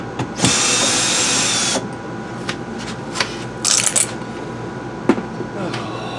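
A power drill whirs loudly for over a second as it backs screws out of a frameless RV window, followed by short bursts of drilling, small clicks and handling knocks.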